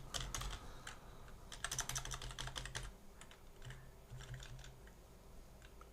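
Rapid clicking of a computer keyboard in quick bursts of keystrokes with brief pauses, close and fairly quiet, with no talking.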